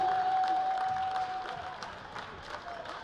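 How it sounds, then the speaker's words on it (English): A gym crowd at a high school girls' basketball game applauds a 4th-grade youth team at halftime, faint diffuse clapping under general crowd noise, fading slightly over time. "let's have one more round of applause for the Brookings Basketball Association 4th grade"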